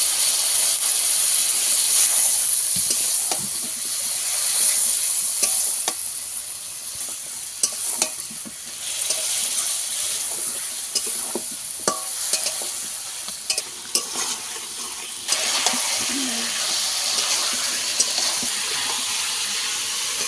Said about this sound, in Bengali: সব কিছু ভালো করে কষিয়ে নেব একটু জল দেবো